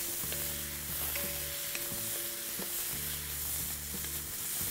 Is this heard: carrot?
yes